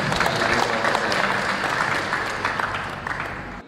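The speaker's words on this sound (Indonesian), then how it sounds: "Kita kasih aplaus yang" An audience at a national Dayak intellectual forum seminar breaks into sustained, dense applause, loud and close, tapering slightly toward the end.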